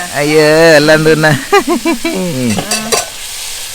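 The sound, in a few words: chopped onion, tomato and green chilli frying in pan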